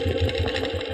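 A sewing machine stitches quilt fabric in a steady, rhythmic close mechanical whir with an even pulsing beat throughout the short stretch.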